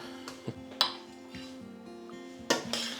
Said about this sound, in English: give it a final stir with your spoon to ensure that the basil infuses with the rest of the pasta